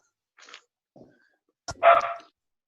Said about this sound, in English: who brought the dog with the church, really?